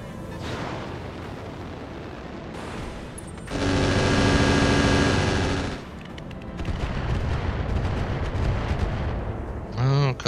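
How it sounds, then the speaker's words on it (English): Weapon fire slamming into a Wolverine mech in Battletech, heavy booming impacts and rolling blasts with a dense loud barrage in the middle and a sharp hit near the end, under intermittent game noise. "Couple shots hit the Wolverine."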